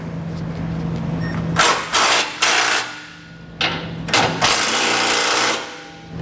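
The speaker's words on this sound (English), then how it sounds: "snug down our flange nuts using a 15/16 size socket" A power tool with a socket drives down the flange nuts on a Curt trailer hitch receiver, giving several loud rattling bursts of a second or so each with short pauses between them, close and with no voice.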